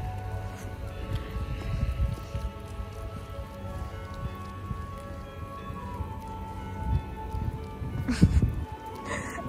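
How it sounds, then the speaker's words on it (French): Mixed rain and snow falling outdoors, a soft steady patter of drops on surfaces with scattered nearby thumps and rustles. "c'est un mélange entre de la pluie et de la neige"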